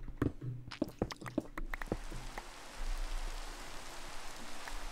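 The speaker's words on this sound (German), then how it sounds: "schneit und regnet." Rain in Minecraft falls as a steady hiss of pattering drops, starting after a few sharp taps and clicks, then holding as a continuous soft wash to the end.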